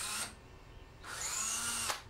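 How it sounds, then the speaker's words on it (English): Power drill with a drill bit boring through Lexan plastic, two close, fairly quiet whirring bursts with a brief pause between them and the whine rising then cutting off, with no talking. "I just take my drill bit"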